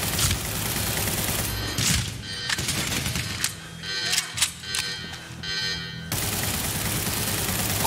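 Automatic rifle fire rattles in rapid bursts in the shooter game Medal of Honor: Warfighter, with dense overlapping shots, sharp cracks and a steady loud battlefield din all around.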